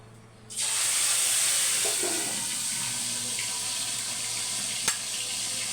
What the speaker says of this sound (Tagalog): Prito na natin yung ating mga tilapia.